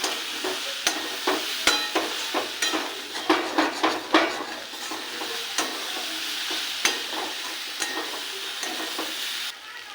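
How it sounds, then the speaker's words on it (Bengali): Spices with a little sugar and roasted cumin powder sizzle in a hot pan for egg tadka, while a spatula stirs and knocks against the metal in an irregular series of taps. "এটাকে আরেকটু ভালো করে কষিয়ে নেব"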